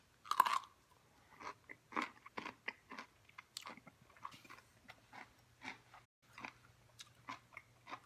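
Close, quiet bites and chewing on a soft, wet fermented pickle, a series of moist chomps with little crunch, repeating at an uneven rhythm with no talking.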